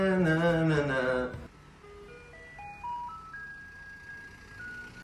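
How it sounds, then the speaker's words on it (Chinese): A Taiwanese garbage truck plays its tinkly melody, a slow run of single bright notes climbing in steps at moderate distance, after a short burst of talk at the start. "就是垃圾车的声音"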